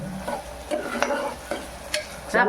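Onions frying for a goat mutton curry, a spatula scraping and stirring them in a pan with a few distinct strokes over a soft, steady sizzle, close by with no talking.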